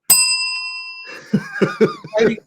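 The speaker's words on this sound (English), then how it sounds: "You're fighting for a bell, and that's not a digital sound effect." A small school bell rings once with a bright, sustained metallic tone that decays over about a second, followed by laughter and voices.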